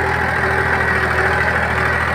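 Mahindra 265 tractor running steadily with a tiller attached, a continuous loud engine drone with constant rumble and no pauses.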